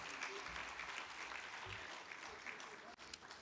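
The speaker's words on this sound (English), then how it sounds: "Let's give the Mayor Kagaza, a big round hand of applause." An audience at a national construction summit applauds the mayor, a dense, steady wash of clapping from many hands that carries on for several seconds before thinning near the end.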